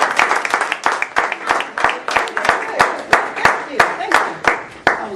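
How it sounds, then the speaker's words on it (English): An audience on a talk show claps together in a dense, close burst of applause that stays steady throughout, with a voice speaking over it. "let's give Sharon Council of the Council Corporation a round of applause"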